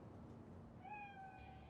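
A cat in Cyberpunk 2077 lets out a single drawn-out meow, rising and then trailing off, faint over a low, murmuring ambient background.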